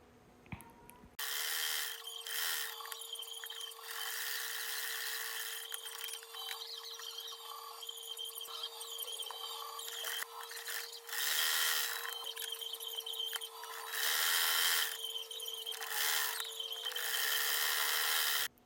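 A sewing machine runs steadily while stitching the sides of a cushion cover, a continuous close mechanical whir with a steady hum, broken by a few short pauses and speed changes, with no talking.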